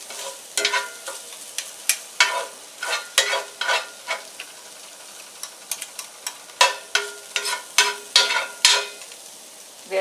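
Onions frying toward deep gold in a pan are stirred constantly, giving a soft steady sizzle broken by repeated close scraping and clattering strokes of the utensil in an irregular rhythm.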